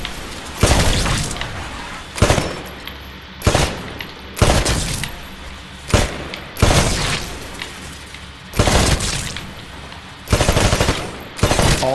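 Rifle fire at shooting-range targets in the Titanfall video game, a run of loud, sharp shots in uneven bursts, each with a short ringing tail, spaced about a second apart and heard alone without talk.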